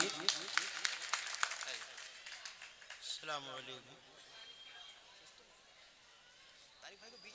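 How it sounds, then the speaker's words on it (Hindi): Audience applause at a mushaira welcoming a poet, with dense claps at the start that thin out. A voice cuts in briefly, and the applause fades into a quieter murmur of the gathering. "जोरदार तालियों से आप इस्तकबाल कीजिए।"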